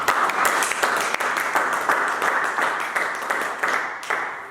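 A church congregation applauds with steady, dense clapping that stays loud and close, and faint voices can be heard underneath.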